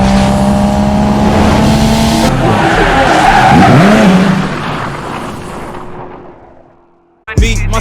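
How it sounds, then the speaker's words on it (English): A white Nardo Grey Ford Mustang pulls in loud and close, its engine roaring while the tires squeal in a drawn-out skid, then the sound fades away before a sharp burst at the end. "So I'm gonna go ahead and pull the car in and get started."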